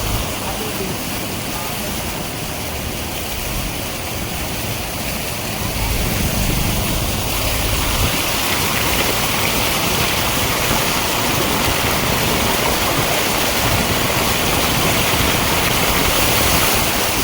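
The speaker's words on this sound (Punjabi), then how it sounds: "ਸੜਕ ਨੂੰ ਕ੍ਰੋਸ ਕਰਕੇ ਪਾਣੀ ਦੂਜੇ ਬੰਨੇ ਲੱਗਿਆ ਗਿਆ" Floodwater rushing across a village road near a toll plaza, a steady broad roar that grows slightly louder after a few seconds and continues unbroken throughout.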